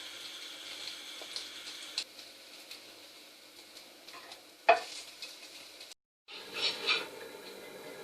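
Nutella French toast rolls fry in oil in a pan, giving a soft continuous sizzle with occasional clinks and scrapes of a utensil, one sharper knock, and a brief gap before the frying resumes.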